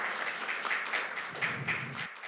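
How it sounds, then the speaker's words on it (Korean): An audience claps steadily to welcome a lecturer onto the stage at a Korean colloquium talk on Attila and the Korean people, a dense, moderate crowd applause without speech. "좀 박수로 환영해 주시기 바랍니다."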